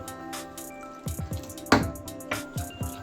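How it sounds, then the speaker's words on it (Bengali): Water trickles in small amounts into bread pakoda batter in a kitchen, giving a few close drips and soft wet splashes spaced irregularly over a faint steady background tone. "এবার আস্তে আস্তে করে অল্প অল্প করে আমি জল দিয়ে দেবো"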